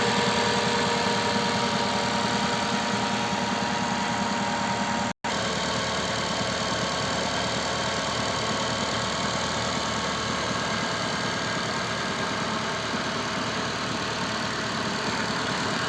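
A car engine idles steadily after a cold start at -20 degrees, running at raised revs with extra noises, a continuous close mechanical drone with a brief dropout partway through.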